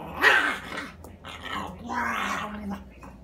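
A puppy growls in a low, rumbling, uneven stretch, close and fairly quiet, with a few higher whiny inflections mixed in.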